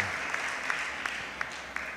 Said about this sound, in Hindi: असी फादरां दे लिए जोरदार ताली दे नाल धन्यवाद करांगे।